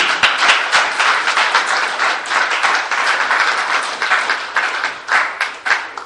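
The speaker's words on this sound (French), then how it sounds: "applaudissez également pour lui." A crowd applauds steadily, dense overlapping claps with slight swells, filling the room for several seconds.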